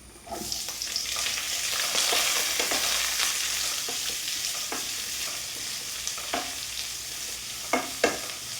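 Sliced onion sizzles in hot oil in a pan while a spoon stirs it for a capsicum thoran, a continuous frying hiss broken by scattered scraping taps, with a couple of louder knocks near the end.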